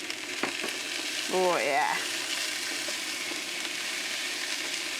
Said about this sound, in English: the sausage has given up his oil and just starting to go a nice sort of brown colour